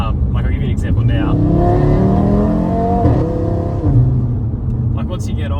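Audi RS3 fitted with a custom downpipe and midpipe exhaust, valves shut, running under load with a steady loud droning engine note and rising harmonics, close by, continuous through the whole stretch.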